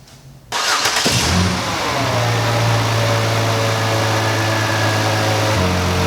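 A car engine, with a known worn spark plug on cylinder four and an ignition pickup clipped to its primary wire, catches after a short quiet lead-in, briefly revs, then settles into a loud, close, steady idle hum with no talk.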